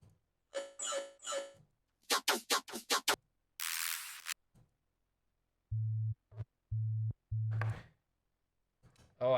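Sub bass synth in a dance music demo track, playing short pulsing low notes in a stuttering rhythm after bright chopped vocal stabs and a hissing noise burst, with no talking.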